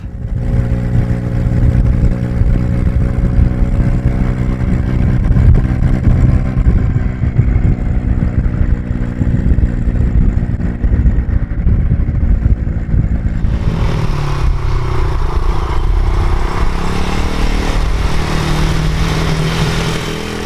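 A 12-horsepower SYM Wolf Classic 125 cc motorcycle engine hums steadily up close, its pitch shifting as the bike rides along twisty roads, then the tone changes and roughens.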